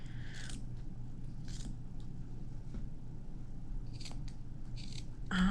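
Scissors snipping through the cuff of a sock for a craft project, several distinct close cuts spaced out, with a couple of quick double snips near the end over a low steady background hum.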